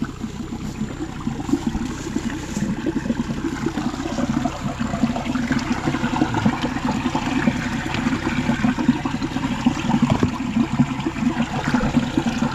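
Irrigation water rushes steadily into a corn field, a continuous loud gushing flow with no talking over it.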